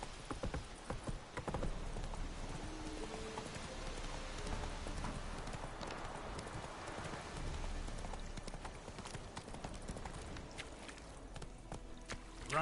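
Rapid clip-clop hoofbeats of the horse Roach galloping in a video game, steady and fairly loud over continuous ambient game sound and a faint rain-like hiss, with a low background drone throughout.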